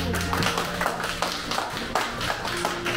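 Guests at a christening party applaud the parents, a short burst of close, lively clapping with uneven rhythm and no talk over it.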